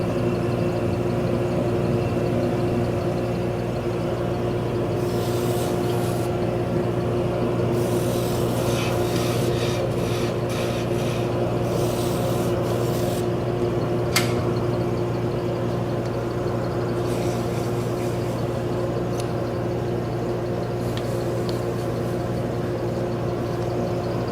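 A lathe hums steadily with a continuous motor drone while abrasive sanding of wooden drop spindles, one of maple, rubs and rasps in bursts over it.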